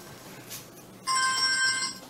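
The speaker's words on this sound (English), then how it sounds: "Loud phone. I don't know where it's at." A loud phone ringtone suddenly starts after a quiet moment, a bright electronic melody of sustained tones continuing to the end, with no talk.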